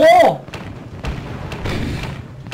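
Tower cannon fire from a sky-fortress tower defense mobile game, a few dull booming thumps spread across the clip, with excited voices talking over the game sounds.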